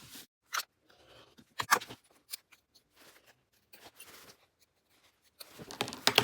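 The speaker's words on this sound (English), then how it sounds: "When you're making your snips into the corner, you want to get as close to the corner as you can without cutting through any of your stitches" Sharp scissor snips cutting into a sewn fabric pocket corner beside the stitching for a bag appliqué, a few quick separate cuts with pauses, then a denser flurry of snipping at the end, close and fairly quiet.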